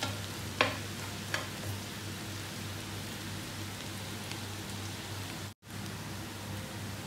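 Garlic frying in a pan for fried rice, a steady crackling sizzle with a low hum underneath and a couple of brief stirring clatters.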